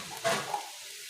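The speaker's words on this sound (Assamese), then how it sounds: "এতিয়া ভালকৈ ভাজি ল'ম।" Spices including turmeric sizzling briefly in a hot pan, a short close hiss that flares and then fades quickly, with no talk.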